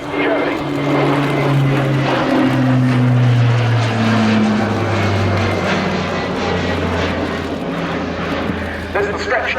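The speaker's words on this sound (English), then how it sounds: "This is the stretched version of the latest derivative of the hugely successful C-130" A C-130, the stretched latest derivative, flies past at an air show, its propeller engines giving a loud, steady drone with shifting pitch throughout, while a commentator talks over it.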